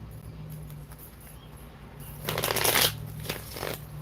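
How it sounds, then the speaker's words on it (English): Tarot cards are shuffled in a short burst of riffling and rustling over a quiet background, fairly close and soft. "Do you want me to pull a card for that, Crystal?"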